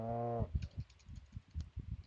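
A single cow moos in Stardew Valley, one short harmonic moo at the start, followed by soft clicks of keyboard typing.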